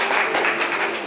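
Applause from a live audience at a French talk show, dense and continuous clapping held at steady volume, close and filling the whole short stretch.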